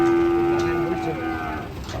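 Cattle lowing as a herd is unloaded from a truck, one long steady moo standing out clearly over a noisy, crowded background.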